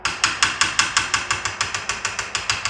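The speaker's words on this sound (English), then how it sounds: "I used a little baby steel hammer" A small steel hammer tapping on a dented Winchester SXP shotgun magazine tube, sharp metallic strikes in a quick, steady rhythm of about five per second, close and clear with no talking.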